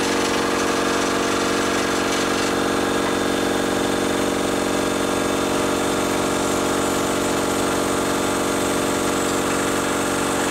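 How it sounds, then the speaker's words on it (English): An air compressor runs close by with a loud, steady mechanical drone and vibration, unbroken for the whole stretch. "So let me turn this compressor back on"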